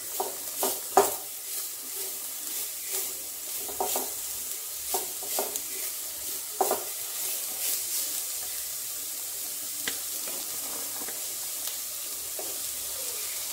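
Carrots stirred and frying in a pan for chicken soup, giving a steady soft sizzle broken by irregular scraping stir strokes and clinks, fairly close and without talk.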